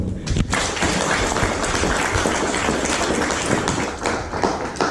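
Loud, dense applause from a crowd at an official handover ceremony of the Manggala Agni forest fire brigade in Labuhanbatu, sustained clapping throughout with occasional sharper claps.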